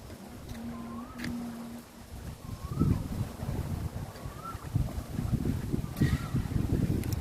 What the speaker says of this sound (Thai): ลมดีดี